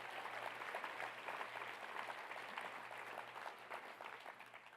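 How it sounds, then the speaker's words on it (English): Luncheon audience at a gun-responsibility event applauding, dense sustained clapping from a large room heard fairly faintly and evenly, easing slightly at the end. "Can we give it a rousing applause as well for our crew and our staff"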